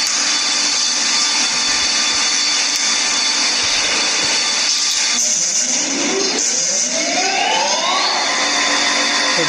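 A vertical spindle grinding machine with a rotating table runs with a loud, steady broadband whine and hiss. Rising and falling tones sweep through it toward the end, and no voice is heard.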